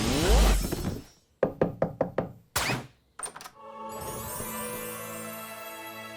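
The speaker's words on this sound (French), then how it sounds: "Même sa façon de frapper est cool." Knocking on a door in a cartoon, a lively sequence of five sharp, evenly spaced raps followed by a couple of louder thumps, standing alone between bursts of music.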